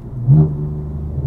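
Short, close burst of a 600 hp BMW M4 running on E85 as the engine note rises under hard throttle, a deep droning growl from inside the car.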